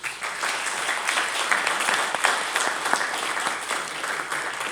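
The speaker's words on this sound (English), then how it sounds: "count that as applause for all of our contributors to this morning's session." Steady applause from an audience at a morning lecture session on historical mapping, dense and continuous throughout with no pauses.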